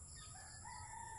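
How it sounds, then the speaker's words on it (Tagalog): A chicken calls faintly from a distance in a brief, quiet stretch, with no other clear sound nearby. "Naku, naririnig ko yung boses ng manok namin doon."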